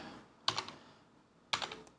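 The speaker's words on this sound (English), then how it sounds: "now we're printing three keys for every one that we type" Computer keyboard keystrokes run through an effects pedal set to three-part harmony mode, producing two close clusters of rapid stacked clicks separated by a pause.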